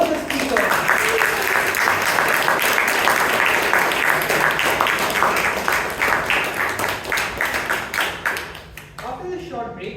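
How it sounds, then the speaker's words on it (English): Sustained applause from the audience at a Toastmasters club meeting in Bangalore, dense and steady for most of the stretch, then thinning into scattered claps with a voice starting up near the end. "Can we have a loud round of applause for both the speakers?"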